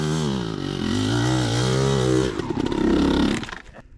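A motorcycle on a spring desert ride revs loudly and steadily under throttle, its engine pitch wavering up and down before it drops into a rougher, rumbling tail that fades out abruptly.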